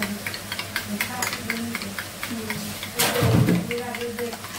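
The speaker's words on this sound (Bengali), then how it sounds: "তো মশলা কষাতে কষাতে আমি মাছগুলো দিয়ে দিচ্ছি।" Fish slid into a pan of spice paste and fried, a steady sizzle that swells when the fish goes in, under a home-kitchen background with some talk.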